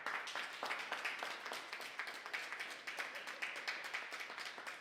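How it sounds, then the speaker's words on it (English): Applause from the audience at a community conversation during an Afro Diaspora Festival, a steady wash of many hands clapping with rhythmic individual claps standing out, sustained throughout at moderate level with no talk. "Can we give applause for all of us for stepping into the conversation?"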